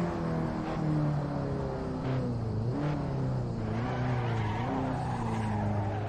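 Racing car tires skid and squeal in the Assetto Corsa sim, over a steady, close engine drone whose pitch rises and falls through the corners, with no talk.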